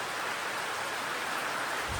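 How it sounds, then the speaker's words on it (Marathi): Rain falls steadily at a village home during the rice-planting season, a dense even hiss of downpour with no break across the short stretch. "आणि पाऊस बघा, आत्ता पाऊस आला."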